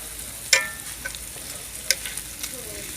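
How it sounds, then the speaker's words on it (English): Bacon with cream cheese cooks on a cowboy grill, giving a low, faint sizzle with a couple of sharp pops and light scrapes standing out from the quiet background. "Start to see some of that cream cheese come out. Get that bacon cooked."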